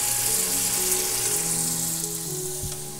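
Onions fry to brown in a pan with a loud, continuous sizzle, while steady low tones hum underneath.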